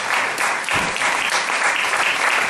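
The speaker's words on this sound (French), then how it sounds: "que tout le monde acclame le Seigneur très fort" A church congregation claps and cheers loudly in praise, a dense, sustained burst of applause filling the room with no break.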